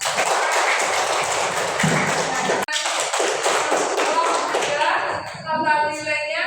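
A group of participants in an academic-supervision coaching session claps for a team's score. The quick, dense applause runs for several seconds, briefly cuts out, then fades as voices take over.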